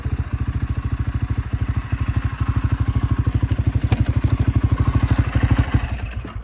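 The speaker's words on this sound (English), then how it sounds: "quad bike's just rolling away" Quad bike engine chugging in a rapid, even rhythm as it rolls away through the woods, loud and close at first and steady throughout, no voices over it.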